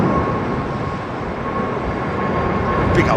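Airbus A380 with GE engines taxiing, a steady broad rumbling roar with a constant whine held evenly throughout, loud and continuous with no pauses.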